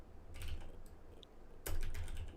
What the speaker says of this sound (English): So we're gonna get a little clickety clackety from my keyboard here.